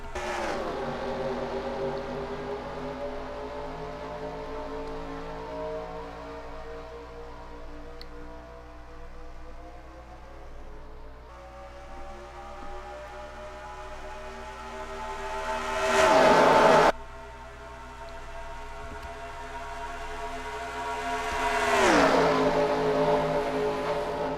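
Racing trucks in a video game launching at the green flag of the K&N 200 at Charlotte, engines roaring together with rising pitch sweeps as they accelerate, a loud whooshing pass around sixteen seconds and another later.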